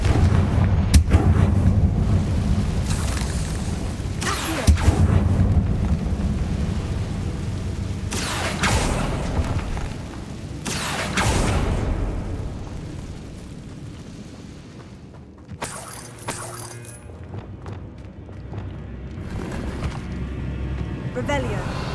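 Confringo blasting spells from Hogwarts Legacy go off in a string of heavy, rumbling booms spread across the stretch, some near and loud and others fading, with an intermittent voice throughout.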